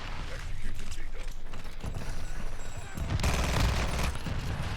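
Two FTAC Siege pistols fired akimbo in Call of Duty, both triggers held for sustained rapid bursts, dense mechanical clatter and overlapping shots that swell louder near the end, close and continuous.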